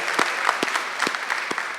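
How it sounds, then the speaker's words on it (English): An audience at a violence prevention coalition meeting applauds a state representative, a steady, moderately loud patter of many hands with a few sharper individual claps standing out. "Let's give Terry a big round of applause"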